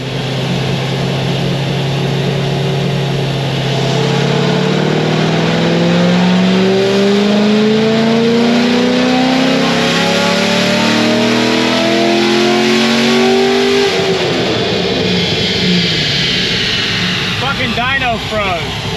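A Corvette C6Z with a cammed LS3 engine revving hard on a dyno: a loud, steadily climbing wide-open-throttle pull that cuts off sharply, followed by a lower engine drone.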